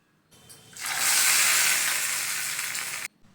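Mustard seeds, urad dal and curry leaves hit hot oil for a tempering, giving a loud, steady sizzle that bursts in suddenly, holds for about two seconds, then cuts off.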